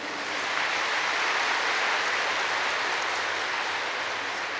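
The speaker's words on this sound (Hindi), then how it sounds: "अपने जन्म की मुबारक के लिए ताली बजा दे जरा" An audience at a spiritual gathering claps to celebrate, producing a dense, uniform wash of applause that holds steady throughout, heard alone without any speech.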